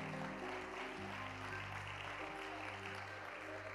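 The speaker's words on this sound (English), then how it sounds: "Can we give God a hand clap of praise right there?" A church congregation claps in praise during a service, a broad, even wash of clapping that stays constant beneath a sustained musical tone, heard from a distance and fairly quiet throughout.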